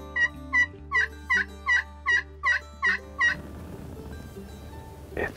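Wild turkey gobbler calling outdoors near a gas line, a rapid run of about nine loud, evenly spaced gobbling bursts, then quieter field noise with a faint final note.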